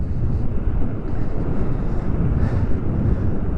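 Wind roaring steadily across the microphone while riding an e-bike into a headwind at about 33 mph, a loud continuous low rumble with gusty swells and no speech.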